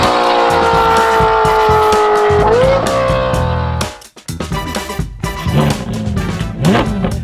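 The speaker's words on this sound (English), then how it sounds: "this is fitted with a Novitec straight pipe system" Car fitted with a Novitec straight pipe exhaust, a loud, close, raspy engine note holding steady, then a brief cut and a series of sharp revs and blips.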